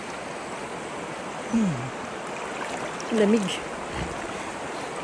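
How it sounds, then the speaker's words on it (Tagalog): Strong waves and a rushing river current at a solo campsite in Laguna make a steady broadband wash throughout, with a man's short spoken remarks briefly over it. "Pero ang lakas ng alon, man."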